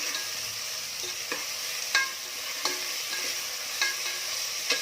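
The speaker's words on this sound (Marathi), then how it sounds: "आता या तेलामध्ये कांदा टाकून रंग बदलेपर्यंत छान भाजून घ्यायचा आहे" Sliced onion with a pinch of salt sizzles steadily in hot oil in a pan, with a utensil stirring and scraping in regular, distinct clicks over the continuous hiss, close by and with no talking.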